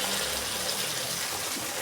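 Water pours steadily into a mixer jar to rinse out the last of a chutney, a continuous rushing splash that lasts the whole moment at close range with no voices.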